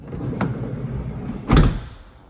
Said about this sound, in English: So when you shut the vehicle door, if it's not fully shut, it will just suck it in on this little bit here.